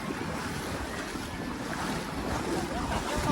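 Sea surf washing ashore near the Nishkalank Mahadev temple on the Gujarat coast, a steady broadband roar of waves mixed with buffeting wind noise on the microphone, continuous and fairly loud with no talking.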